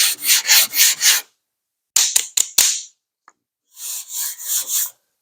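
A sanding block is worked back and forth over 2K primer in rhythmic rasping strokes, first in a steady series, then several quick short scrapes, then another even run of strokes, loud and close with no talking.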